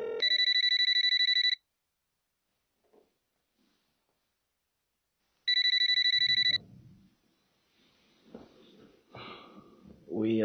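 A telephone rings in two loud electronic bursts separated by silence, with a quiet voice and rustling after the second ring.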